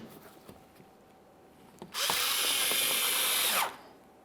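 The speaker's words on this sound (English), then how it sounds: "Let's get the screw in this panel as well." Cordless power driver whirs for nearly two seconds as it runs a screw into a front bumper panel on a 2014-2018 Mazda 3 while the grille is replaced, preceded by faint clicks and handling noises, loud and close.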